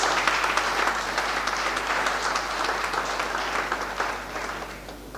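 Church congregation at a general assembly applauding steadily, a dense wash of many hands clapping at fairly even loudness that eases off slightly toward the end, with no talk over it.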